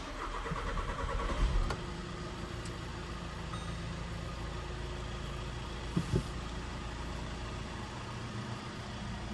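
A 2017 VW Tiguan 2.0 TDI diesel engine is heard running steadily at idle, with a brief starter-like burst near the start and short clunks later. The low mechanical drone stays fairly even throughout.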